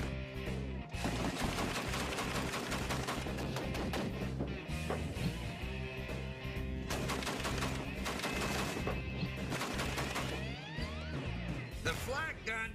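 A flak gun mounted on an army half-track fires in rapid bursts of heavy automatic gunfire, loud and close, with short pauses between volleys and voices heard amid the shooting.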